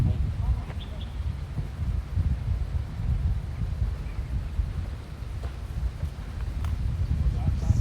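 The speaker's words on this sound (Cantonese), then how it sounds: "涼涼地有啲風" Wind buffets the microphone outdoors on a football pitch during a friendly match, a steady low rumbling roar that runs throughout, with faint voices and scattered light knocks in the background.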